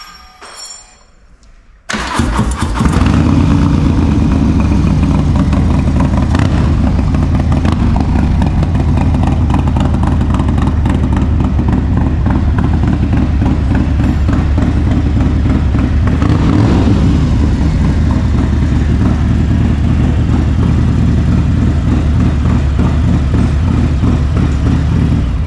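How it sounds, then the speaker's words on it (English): A Harley-Davidson Low Rider ST with a full stage 2 setup cranks over, fires up loudly and close, then settles into a heavy, thumping idle with occasional revs. "I'm just going to start it up for the first time by myself"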